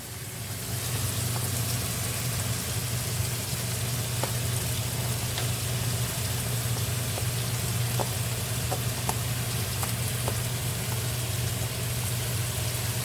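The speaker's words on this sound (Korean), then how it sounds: "이제 양파하고 고기를 같이 볶아줍시다." Onions and pork belly stir-frying together in a pan for homemade jjajangmyeon made with Chapagetti, a steady close sizzle with soft clicks and taps from stirring, and no talking.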